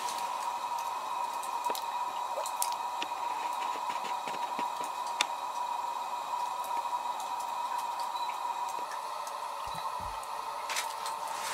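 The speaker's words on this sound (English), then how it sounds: "So you can see it still has water dripping down just like the ape caves did" Water dripping inside an ice cave in Washington, heard as scattered small drips and trickles over a steady hollow cave hiss, with no one talking.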